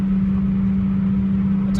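A car cruising on dry roads after days of rain, a steady low engine drone and road hum from inside the cabin, constant and fairly loud.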